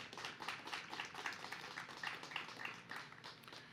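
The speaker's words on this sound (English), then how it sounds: "Let's give them a round of applause." Steady applause from a crowd honoring the Air Force ROTC at a university ceremony, many hands clapping continuously at moderate volume, sounding somewhat distant.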